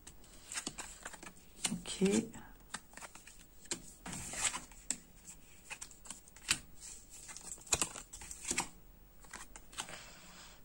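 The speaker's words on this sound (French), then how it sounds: "on va d'abord retourner toutes les cartes" Oracle and Dixit-style divination cards flipped over one after another on a table, giving soft, close papery slaps and rustles scattered through the stretch while someone talks quietly over them.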